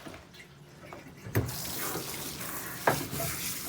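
Water runs and splashes from a basin as it is poured out while a hairpiece is being washed, a steady close rush with two sharper splashes along the way and no talking.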